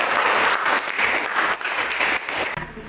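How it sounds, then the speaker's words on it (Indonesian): Classroom applause from a group of students fills the room: dense, steady clapping throughout, close and loud, thinning briefly near the end before resuming. "Berikan tepuk tangan untuk kalian semua."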